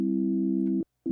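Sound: FM synthesizer tone turning into sawtooth wave, DX7 Dexed

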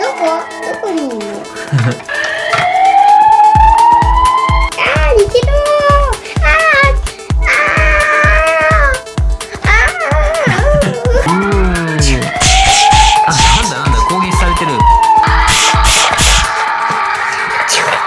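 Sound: toy police car siren

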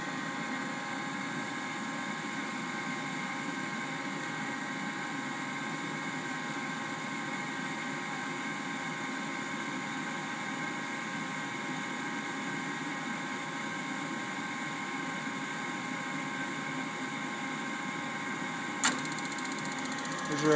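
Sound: furnace induced draft motor running

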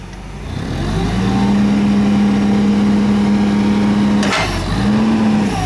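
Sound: Toyota 7FGCU20 LP-powered forklift engine running

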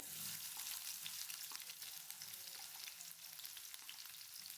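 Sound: onions frying in hot oil in pan

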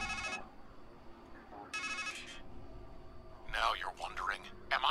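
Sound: phone ringing in the video game Strangeland

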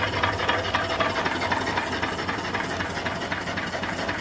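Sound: model steam engine running on steam boiler

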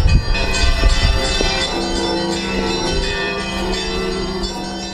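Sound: church bell ringing

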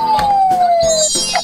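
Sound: toy police car siren

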